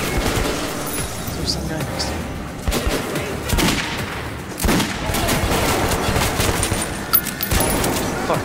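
Sustained gunfire in the post-apocalyptic shooter Metro 2033, with dense bursts and volleys of shots and booms running loud throughout, under a player's brief voice.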